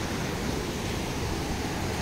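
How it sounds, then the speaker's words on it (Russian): Waterfalls rush steadily in the Carpathian mountains, a dense, continuous broadband roar with no breaks, heard alone at moderate loudness. "водопады здесь шумят"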